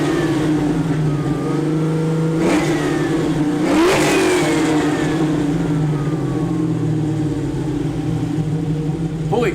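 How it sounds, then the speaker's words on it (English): The V8 of a 1969 Chevy Camaro SS pro-touring restomod fires up and revs hard several times, loud and close, with a deep rumbling idle between the throttle blips. "let's get this engine started up here."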